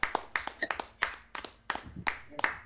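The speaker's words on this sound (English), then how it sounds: "Clap him up, man." A few people clap for a guest in a podcast studio, giving sharp, uneven hand claps in quick bursts for a few seconds, close and fairly loud, with no talking.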